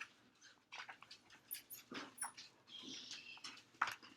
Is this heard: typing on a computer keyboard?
no